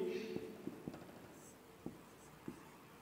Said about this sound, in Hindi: दोनों की कुल कीमत हम लिखेंगे